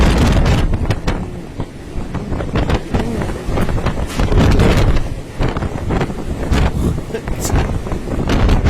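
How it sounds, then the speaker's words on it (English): Strong wind roars and buffets the microphone continuously, with heavy low rumble and gusty bursts throughout. "This is freaking windy."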